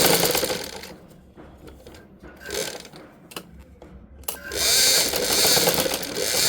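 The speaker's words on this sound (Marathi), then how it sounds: "आता आपण हा असा फोल्ड आतल्या साईडने घातलाय आणि याच्यावर आपल्याला टीप मारून घ्यायची." A sewing machine runs a dense stitch along an inward fold of old cloth being made into a mat or teapoy cover. It whirs loudly up close, eases off mid-clip, then surges again.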